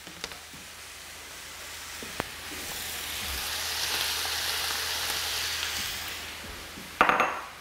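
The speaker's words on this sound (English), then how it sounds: "Our pork is now browning off, and we're going to add in our peppers" Pork with peppers and carrots browns in a hot pan, giving a steady close sizzle and frying hiss that swells through the middle, with a few light clinks of utensils and a sharp knock near the end.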